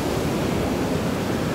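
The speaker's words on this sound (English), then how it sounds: "Look at the waves though, man." Pacific ocean waves breaking on a beach with a strong undertow, heard as a steady, loud wash of surf roar with no distinct individual crashes, continuous throughout.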